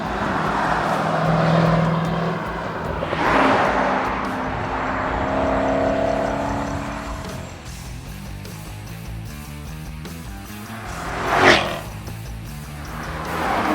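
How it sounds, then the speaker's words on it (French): A 2016 Jaguar F-Type SVR with a supercharged 575 hp V8 and all-wheel drive accelerates, its engine rising in pitch through gears in a loud, sustained roar, with a sharp crackling burst near the end. "on met le compresseur sur le V8, on est déjà à 550 chevaux"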